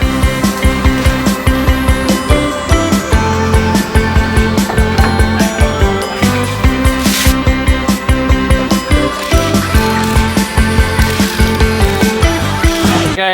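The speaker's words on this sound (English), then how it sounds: "Okay, we've got a torque wrench" Wheel nuts on a Toyota HZJ75 Landcruiser being tightened with a Snap-on torque wrench, giving a close, loud, rapid series of ratcheting clicks in a steady repeating rhythm with metallic ringing, and no talking.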